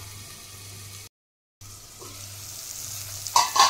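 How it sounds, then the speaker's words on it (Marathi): Tomatoes soften in a covered pan over the flame, giving a low steady sizzle that briefly cuts out, then returns slightly louder with a few sharper crackles near the end. "ते टोमॅटो मऊ होण्यासाठी मी 2 मिनिटं झाकण ठेवते त्याच्यावर।"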